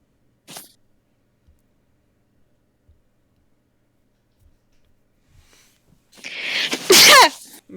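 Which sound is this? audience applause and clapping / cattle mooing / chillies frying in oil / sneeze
sneeze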